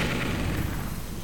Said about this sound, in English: With a billion explosions.